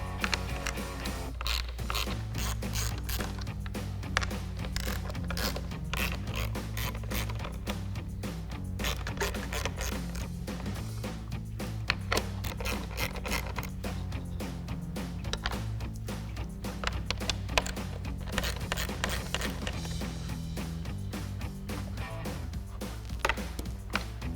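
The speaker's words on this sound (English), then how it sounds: "we'll use our 7mm socket first to remove the 4 bolts that hold our reverse light in" A ratchet with a 7mm socket backing out the four reverse-light bolts on a 2018-2023 Mustang: a long, steady stream of quick, faint metallic clicks, close up and with no talk.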